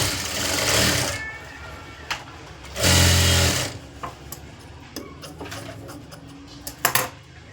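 Sewing machine stitching a blouse lining, with short whirring runs of the needle, one louder burst near the middle, amid light clicks and handling of fabric and the machine.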